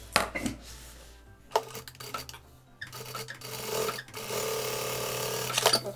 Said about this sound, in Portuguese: E aqui eu passo uma costura.